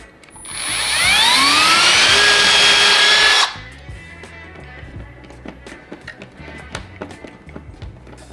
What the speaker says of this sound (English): I'm gonna drill the holes here